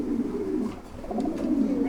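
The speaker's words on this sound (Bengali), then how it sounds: "এখানে রয়েছে একজোড়া খুব সুন্দর, সুন্দরের চেয়েও সুন্দর একজোড়া লাহুরি।" Lahore pigeons cooing close by, two soft, low, rolling coos in quick succession.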